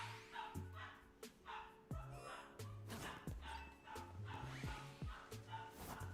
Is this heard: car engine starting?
no